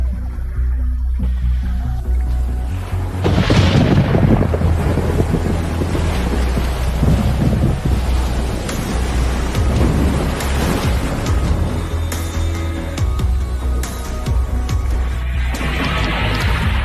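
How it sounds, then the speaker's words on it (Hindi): A huge storm on the early Earth, when giant waves churned the seas, roars with strong wind and crashing surf. It is a loud, continuous, rumbling wash that swells and recedes, with no voices. "इससे सुपर बड़ा तूफान होता है"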